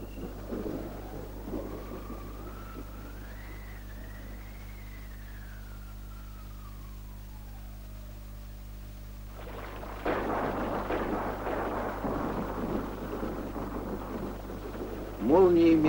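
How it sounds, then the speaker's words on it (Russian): An approaching thunderstorm: a low, long rumble of thunder under a rising and falling tone and a narrating voice, then rain bursts in heavily and steadily for the last third. "Приближается гроза."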